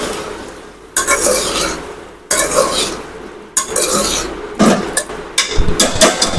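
A dhaba-style dish being stirred in a pan after salt is added: a spoon scrapes and rasps against the metal in repeated close, loud strokes, with a light sizzle underneath.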